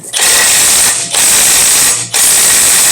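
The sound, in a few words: ratchet tightening torque converter bolts on LS engine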